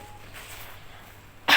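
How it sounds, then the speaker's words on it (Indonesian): A single short cough into a tissue bursts out abruptly at the end, close and fairly loud after a near-silent stretch. "Saya ingin mempraktekkan contoh batuk yang benar."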